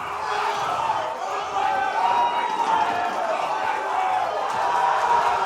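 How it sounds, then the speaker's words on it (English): Tournament crowd at a Super Smash Bros. for Wii U (Smash 4) event roars and cheers continuously, a dense, steady wash of many voices filling the hall without letting up. "The crowd is going insane."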